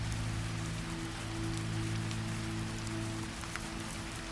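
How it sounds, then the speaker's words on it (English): Steady rain falls outside, a continuous soft hiss with scattered drops tapping on surfaces, alone and unbroken, with a low steady hum beneath it. "Listen to the rain outside."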